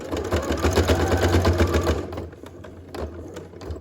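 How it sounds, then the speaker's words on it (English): A domestic sewing machine stitches rib trim onto a hoodie hood, running in one steady, loud burst for about two seconds, then stopping, followed by quieter handling clicks and fabric shuffling. "I'm going to put my foot back down, and I'm going to sew for about 2 centimeters"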